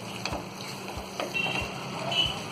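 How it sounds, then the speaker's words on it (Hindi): Masala with tomatoes for achari chicken fries and is stirred in a pan over a raised gas flame, giving a steady sizzle broken by a few soft scraping strokes of the spoon at regular intervals. "टमाटर के घुलने तक हम इसे अच्छी तरह भून लेंगे।"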